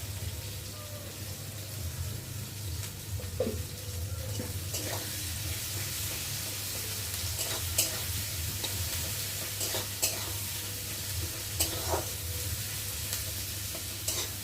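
Chopped onions and green chillies fry in a pan for a chicken dish, giving a continuous close sizzle broken by repeated scraping stirs.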